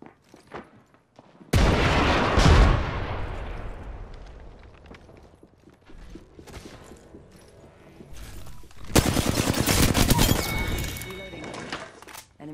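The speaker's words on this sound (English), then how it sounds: "Opening fire on enemy." Gunfire in a war video game: a sudden loud crash opens a long burst of rapid shots and breaking debris, then a second heavy volley near the end, with voices talking throughout.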